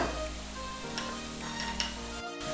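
Ginger and garlic sizzle in a hot wok alongside sweated onions and carrots, a steady close frying hiss with faint stirring ticks and no talking.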